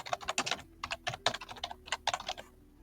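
Quick bursts of computer keyboard typing to rename a node, close and fairly quiet, with irregular clusters of clicky keystrokes and short pauses between words.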